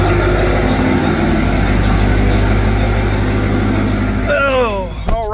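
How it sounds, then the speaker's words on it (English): A turbocharged Redeye car engine idles steadily at close range with a constant low rumble, and the sound dips briefly near the end. "I've started up and let it idle a couple of different times now"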